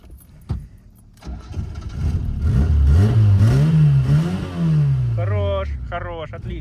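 A tuned ZAZ Tavria car engine cranks and starts, then revs loudly up and down close by, with a brief chirping squeal near the end and people talking around it.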